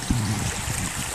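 Water pours steadily into a protein shaker bottle, a continuous close splashing trickle filling the whole moment with no talk.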